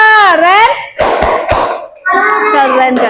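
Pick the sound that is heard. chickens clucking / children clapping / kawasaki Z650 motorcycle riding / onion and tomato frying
children clapping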